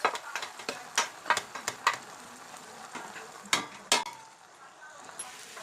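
Masalas frying in a pan for brinjal kurma, brisk clinks and scrapes of a spoon against the pan over a faint sizzle, busy at first and then thinning out.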